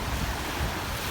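Sea waves after a typhoon surge and wash continuously, a broad roaring wash mixed with heavy wind buffeting against the microphone, with no voices.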